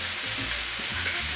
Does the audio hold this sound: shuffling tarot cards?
no